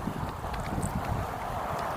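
Steady wind buffets the microphone while cycling, with a low, continuous rumble and no voices, a constant gusty roar throughout.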